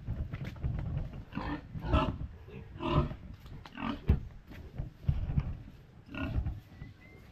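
A sow and her piglets at a farm give off a run of close, rough grunts and snorts in uneven bursts, fairly quiet and with no talking.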